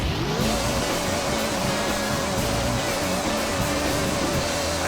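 Race car engine in Gran Turismo 3: A-Spec, a steady loud exhaust drone holding a near-constant pitch across the whole stretch, with a faint tire squeal hint and no voices.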